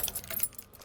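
A bunch of keys jangles in a brief, faint metallic rattle lasting under a second, with a soft vehicle hum behind it.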